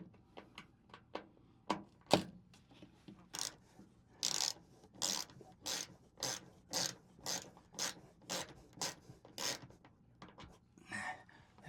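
A ratchet handle works a screw on an RV dishwasher, making a steady series of sharp, close clicking strokes with short pauses between them and a faint rub at the end.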